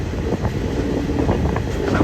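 A Prasanthi Nilayam Express train rolling slowly at close range, a steady low rumble and rattle of the wagons with faint clanking, continuous and fairly loud for the whole moment, with no voices.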